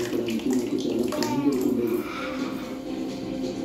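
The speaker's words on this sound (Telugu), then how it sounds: "ఇక నీళ్ళు వేసేసుకుందాం." Water is poured into a cooking pot holding a litre of curd for a green chilli preparation, a steady close gushing splash that runs for about two seconds and then settles into a softer trickle.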